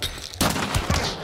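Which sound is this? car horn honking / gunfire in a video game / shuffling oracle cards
gunfire in a video game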